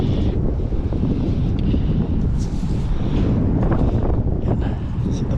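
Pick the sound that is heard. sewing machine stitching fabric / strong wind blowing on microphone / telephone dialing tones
strong wind blowing on microphone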